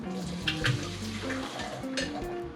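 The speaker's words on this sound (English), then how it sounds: "I'm gonna rinse some cold water a little bit for to stop that cook" Cold tap water runs steadily into a kitchen sink to rinse and cool freshly cooked food for a vegan grain and veggie bowl, with a few light clinks of dishes over the continuous splashing.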